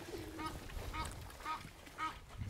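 Farm ducks quacking near clean water troughs in the morning, a few rhythmic nasal calls repeating about every half second, moderately faint against low background rumble.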